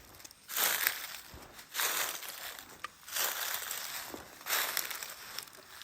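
Foot shuffling through dry leaves on a forest floor, four distinct bursts of crisp crunching and crackling with short pauses between, close and fairly clear.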